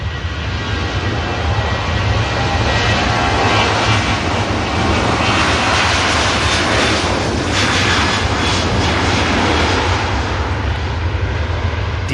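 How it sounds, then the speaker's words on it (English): A Jet2 Boeing 737-300 departs down the runway at an airport, a loud sustained jet engine roar that fills the whole clip without a break, with no voices over it. "While this Jet 2 departs, KLM just rolling out as well"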